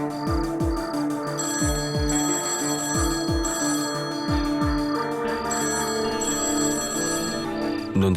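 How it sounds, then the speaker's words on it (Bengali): A telephone bell rings in repeated bursts, loud and close, continuing steadily over a musical background with no voices. "প্লিজ প্লিজ প্লিজ ফোনটা তোলো প্লিজ"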